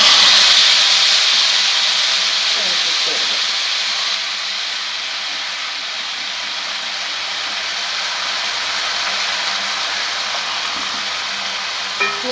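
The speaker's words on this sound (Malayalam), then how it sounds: "നമുക്ക് ഫ്ലെയിം കൂട്ടി വെച്ച് തന്നെ ഇത് നല്ല പറ്റിച്ചെടുക്കണം നല്ല ഫ്രൈ ആവും" Beef frying in a pan over a high flame for a Kerala thattukada-style beef fry, giving a steady, loud hiss and sizzle that carries on without a break and fades slightly partway through, with no talking.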